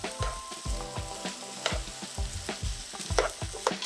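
Squash cooking down in a pot for chowder, with repeated stirring scrapes and a steady soft sizzle, close and moderately quiet with no talking.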